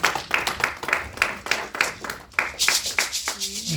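A church congregation claps in a steady, quick rhythm while acclaiming the Lord, with the sharp, even claps filling the room and a brief tonal sound near the end.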